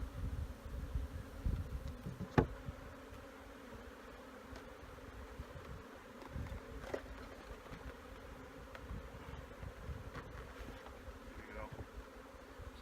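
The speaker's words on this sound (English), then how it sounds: "So there's bees everywhere." Agitated honeybees swarm around a nuc being installed into a hive, a continuous close buzzing hum with individual bees droning past, plus a few knocks and handling sounds.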